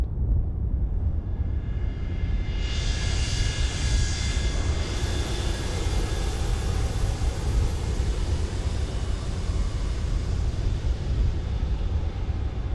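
Simulated Boeing 727 jet engines heard from outside the aircraft in a flight simulator game, a loud steady broadband roar with a high whine swelling in after a few seconds and holding to the end, no voices.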